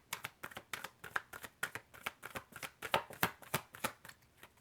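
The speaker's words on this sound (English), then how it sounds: "Okay, let's shuffle again." Tarot cards shuffled by hand at close range, a quick series of crisp riffling bursts in an uneven rhythm, fairly faint against a quiet room.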